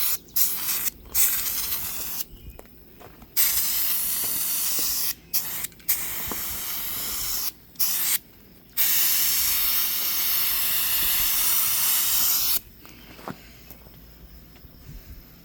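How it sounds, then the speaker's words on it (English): Repeated bursts of spray from a spray gun fitted with a new nozzle during equipment repairs, strong hissing blasts of varying length separated by short silent gaps, close and loud with no talking. "like I sprayed it with a spray gun"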